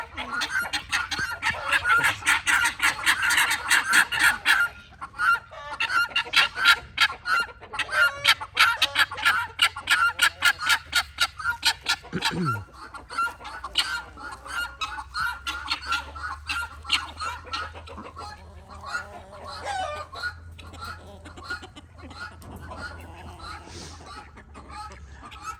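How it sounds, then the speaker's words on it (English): Backyard chickens clucking and calling in a coop with no door yet, repeated busy squawks and clucks fairly close, with a person talking over parts of it. "Chicken."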